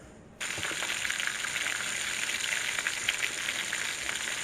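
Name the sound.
chicken cordon bleu frying in oil in a pan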